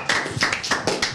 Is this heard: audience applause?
yes